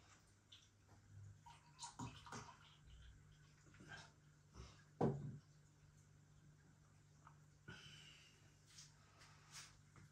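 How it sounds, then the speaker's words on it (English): San Miguel beer poured into a glass: a quiet, faint trickle and splash of liquid with a few soft knocks, irregular over about ten seconds. "Pouring that little bit of beer in the top there has redeveloped the head."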